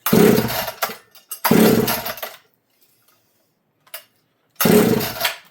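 A Partner P42 motorized engine being started with the choke on, firing in three loud, close bursts of revving with quiet gaps between them and a brief cough in the middle.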